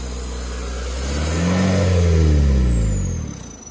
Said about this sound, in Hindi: ये ऐसे लग रहा है टर्बो की आवाज देखिए